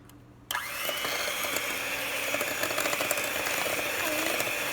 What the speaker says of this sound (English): I am using electric beater.